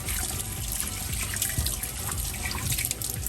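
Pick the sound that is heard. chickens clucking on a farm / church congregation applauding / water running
water running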